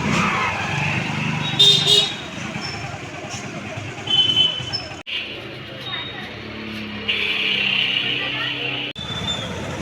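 A vehicle runs along a road with a steady engine and road rumble, brief cuts in the sound, and a voice talking over it at times.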